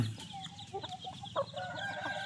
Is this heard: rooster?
yes